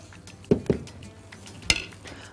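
Eggplant slices set into an oiled pan, with a few quick clinks of metal and a brief faint sizzle, three short close knocks against a quiet kitchen background.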